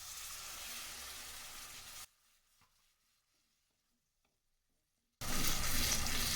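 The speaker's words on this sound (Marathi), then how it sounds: "आता परत मी अजून एक कप इतकं पाणी घालतेय" Hot water is poured into a kadhai of stuffed brinjal masala, giving a loud, hissing sizzle. It cuts off into near silence for about three seconds, then bursts back just as loud.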